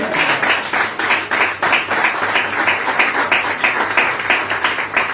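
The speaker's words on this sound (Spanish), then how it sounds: "Dale un fuerte aplauso." A church congregation applauds steadily during a sermon, many hands clapping together in a dense, continuous wash that holds for several seconds with a slight pulsing rhythm.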